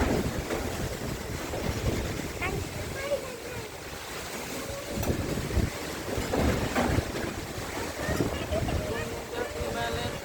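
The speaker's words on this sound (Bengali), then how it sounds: "অনেক বাতাস বয়ে যাচ্ছে" Strong wind from Cyclone Remal roars steadily into the microphone, swelling in gusts amid rain and surf-like noise, with a voice faintly beneath it.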